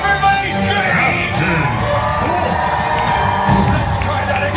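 A theme park show audience at Disney's Hollywood Studios screams and cheers together, a dense, loud wall of shrieks, whoops and children's shouts that holds steady throughout.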